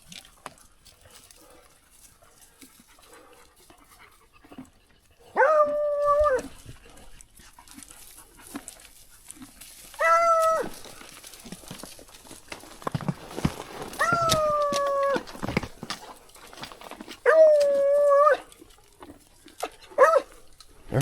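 Hunting dogs trailing in the woods give several long, drawn-out howling bays spaced a few seconds apart, loud and fairly near, with rustling and movement between them.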